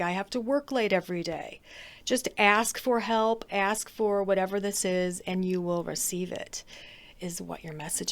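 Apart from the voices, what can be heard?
None of the usual background noises is heard.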